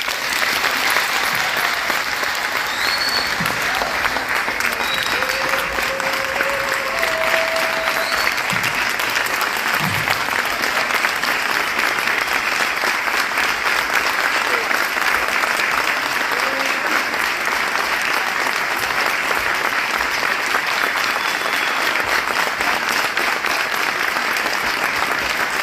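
Audience at a Paris conference given by Maurice Kamto breaks into sustained, loud applause after his speech. The clapping continues evenly and densely for the full stretch, with occasional cheers rising above it.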